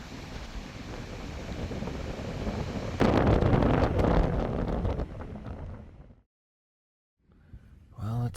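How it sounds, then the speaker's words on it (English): Strong wind roars and buffets the microphone continuously in the Baja California desert, growing louder midway, then cuts out briefly before gusting back in. "Very windy, not ideal at all."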